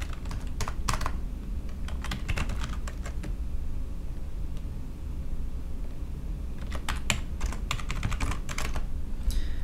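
A computer keyboard is typed on while entering a username and password for a web hosting login, with quick clusters of keystrokes, a pause in the middle, then more tapping, close and fairly quiet.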